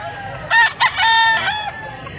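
A three-year-old green-legged gamecock gives one loud, close crow, opening with two short bursts that run into a sustained call before trailing off.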